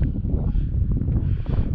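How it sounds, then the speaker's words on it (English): Strong wind buffeting the microphone outdoors at a lake, a continuous low rumbling roar with gusty fluctuations and faint rustling. "Kind of windy out here too."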